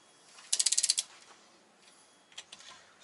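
A torque wrench ratchets down cam caps on an RB25DET engine, making one short, crisp burst of about seven quick clicks, followed by a few faint taps and quiet.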